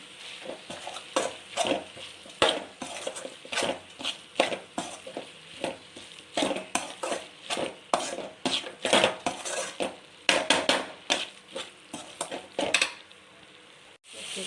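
Pasta ingredients sautéed with chicken masala in a pan: a rapid run of loud metal spoon scrapes and clanks against the pan over a soft sizzle, close up and irregular, with no voices.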